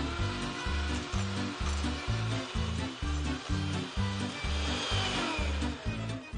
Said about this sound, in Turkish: Şimdi şöyle mikserle biraz bunu karıştıracağım.